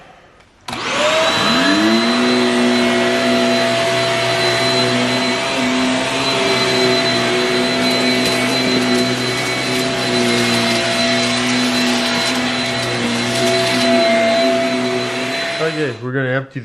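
A Shark Rocket Ultra Light vacuum kicks on and runs over a dirty Berber carpet. Its loud, steady motor whine holds for about fifteen seconds before it winds down and stops.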